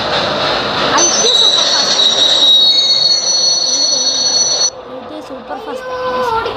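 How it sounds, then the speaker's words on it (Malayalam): The ITA Superfast train passes close by, its wheels giving a loud, sustained high-pitched squeal over the rumble of the coaches that drops abruptly partway through, with voices faintly audible. "ITA സൂപ്പർ ഫാസ്റ്റ് എന്നാണ് ഈ ട്രെയിനിൻ്റെ പേര്"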